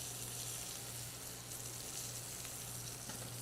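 Protein searing in a very hot pan, a steady, even sizzle of fat crackling throughout with no talk over it.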